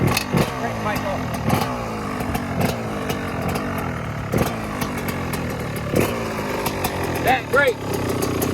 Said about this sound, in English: we gonna crank the bike up